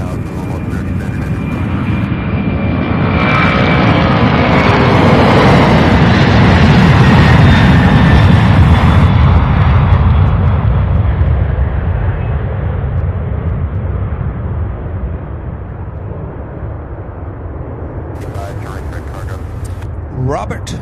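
An aging UPS jet at Louisville airport roars past in a broad, loud swell that builds, peaks midway and slowly fades, with radio chatter and voices heard at times over it.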